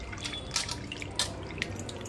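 Raw chicken being rinsed in clean water in a kitchen, with soft drips, splashes and faint clinks at a quiet level over a low background hum.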